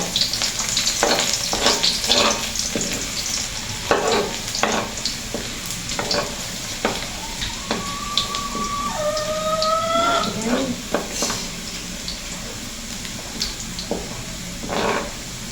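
Garlic frying in a pan for pancit habhab, a continuous close sizzle with repeated scraping and stirring clatter and a brief faint sound in the background.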